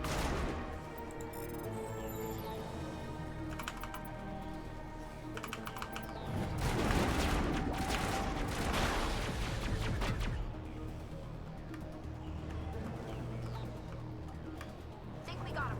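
Sustained gunfire and explosions in the Mass Effect video game, loud and dense, with clattering bursts swelling mid-clip as a voice talks over the combat.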